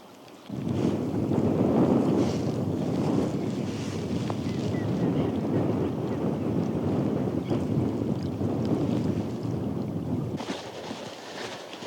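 Strong wind roars steadily across the open water of a river during spring spinning fishing for perch, a loud, continuous rush buffeting the microphone for nearly the whole stretch, with no voice heard.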